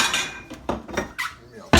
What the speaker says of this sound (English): Let me get my knife here. Get me a plate out here.